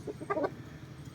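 A hen with green legs clucks in a yard, a few short soft calls bunched near the start and then fading into low ambient noise.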